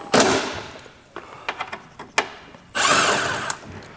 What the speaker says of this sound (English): you're gonna need a ratchet wrench or a impact driver with a 12mm socket